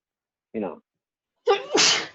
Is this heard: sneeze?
yes